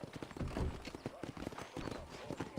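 Horse hooves clip-clopping in a cowboy video game, a quick rhythmic trot of steady hoofbeats underneath a voice.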